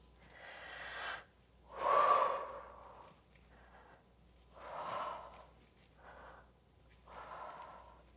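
Several forceful breaths sound during a kickboxing-style yoga routine of knee strikes, loud close exhales and huffs spaced a second or two apart, the strongest at about two seconds.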